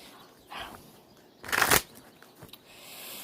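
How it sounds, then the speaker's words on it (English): Tarot cards shuffled in one brisk, loud riffle lasting about a third of a second, preceded by a softer rustle of handled cards, with quiet room tone otherwise. "Let's give it a few shuffles"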